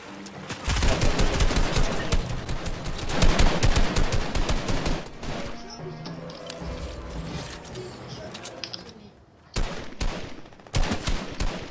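Rapid gunfire in the Fortnite video game, dense bursts of loud automatic shots and clattering mechanical weapon noise for most of the stretch, thinning briefly before sharp volleys resume near the end.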